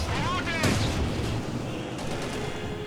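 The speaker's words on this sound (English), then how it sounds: "Grenade in on the MG, only kills one model." A grenade explodes on a machine gun team in a WWII real-time strategy game, a loud boom with sustained rumbling battle noise and scattered gunfire, while a commentator talks over it.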